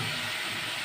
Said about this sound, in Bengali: একটু তেলের মধ্যে ভাজবো মশলাগুলো